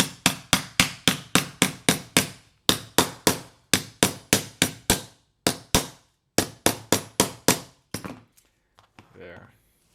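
Rapid metal hammer blows on a pierced metal spatula, struck in quick bursts of about eight to ten sharp, ringing hits with short pauses between, close and loud, tapering off into a few scattered taps near the end.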